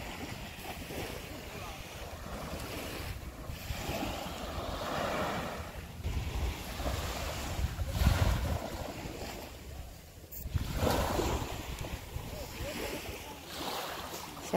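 Gusty wind buffets the microphone on a Maldives beach in early morning, with surf washing in under it, while a person talks over the steady outdoor noise.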